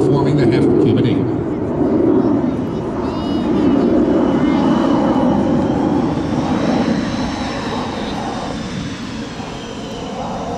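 Blue Angels jet aircraft roaring through an air show at Pensacola Naval Air Station, a loud continuous engine rush that swells and fades slightly as the formation passes, with a commentator's voice over it.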